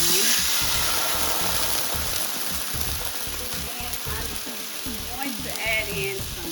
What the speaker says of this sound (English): now we're gonna add in our wine